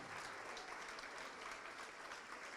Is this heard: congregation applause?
yes